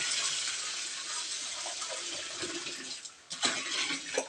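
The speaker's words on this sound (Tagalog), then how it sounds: "lagyan natin ng malinis na tubig" Clean water pours in a steady broadband rush, briefly interrupted near the end before splashing resumes, close and fairly loud.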